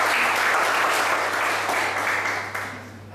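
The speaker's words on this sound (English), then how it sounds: "Let's clap it up for Mr. Lucas." An audience at a professional development session claps for a colleague, a dense, close burst of applause that gradually tapers off over a few seconds.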